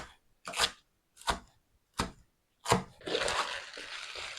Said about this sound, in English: you just need to roughly chop it